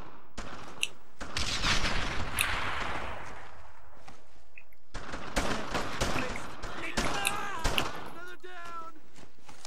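Shooting in the World War II game Road to Hill 30 arrives as bursts of rifle and machine-gun fire with sharp single cracks between them, and voices are heard alongside.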